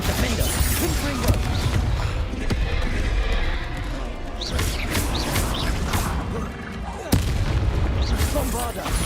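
Spell blasts from Bombarda and Confringo burst repeatedly in Hogwarts Legacy combat, a dense run of loud booms and crashes under the game's clatter, with a player talking over it.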